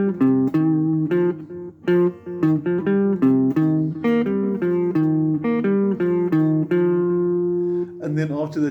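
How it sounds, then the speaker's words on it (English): A clean electric guitar plays a quick, bouncy melodic line of plucked notes from a song's keyboard melody, ending on a held note before a strum. "our guitar version of the tune should sound like this"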